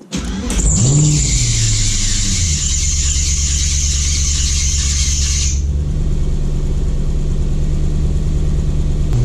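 A Porsche 986 Boxster with a swapped-in V8 starts and revs up loudly on a test drive, its engine note climbing briefly before settling into a steady, continuous drone with a high whine that cuts off partway.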